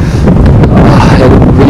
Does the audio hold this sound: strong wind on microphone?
yes